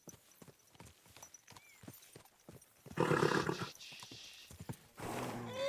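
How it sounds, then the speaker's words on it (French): Hooves clip-clop in a steady, brisk rhythm in the video game Kingdom Come: Deliverance II, then a horse lets out loud whinnies and snorts over the hoofbeats. "Oh, on a le cheval quoi."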